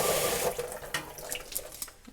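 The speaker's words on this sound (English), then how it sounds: "I'm gonna give the pasta another little rinse." Running tap water pours over cooked linguine in a sink, a loud steady gush at first that turns into uneven splashes and drips as the pasta is rinsed, heard close with no talking.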